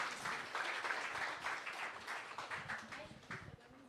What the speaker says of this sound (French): une bonne main d'applaudissements pour Julien